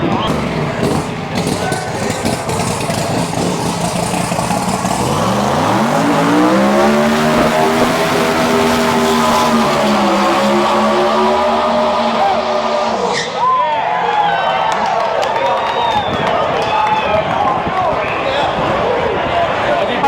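Classic cars racing at the Tri Five Nationals show in Bowling Green, Kentucky, with a loud engine revving up and sweeping past, tyre noise and crowd murmur all around, and people talking throughout.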